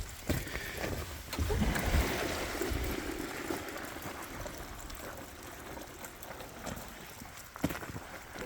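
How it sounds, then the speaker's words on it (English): Water runs from an IBC tote through an opened ball valve into a hose, a steady rushing flow heard near and fairly constant over the outdoor background, with a brief clunk near the end. "I'm going to open up the ball valve."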